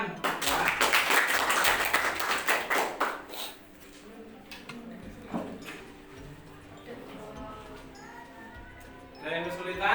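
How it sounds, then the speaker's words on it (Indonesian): A classroom audience claps in a burst of quick applause that fades after a few seconds, then a teacher and students talk, with another short round of clapping near the end. "Ya silakan tepuk tangan."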